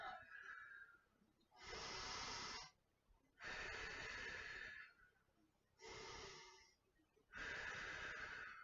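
Slow, deep breaths during a prenatal Pilates seated rotation with a chair, four long airy inhales and exhales in a steady rhythm, close and clear with no talking.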